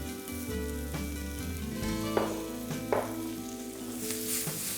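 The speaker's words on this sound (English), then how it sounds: "So to this, I'm going to add a touch of garlic. And just keep tossing." Vegetables sautéing with a touch of added garlic in a pan give a steady, close sizzle, with a few sharper clatters and scrapes as they are tossed, and no voices.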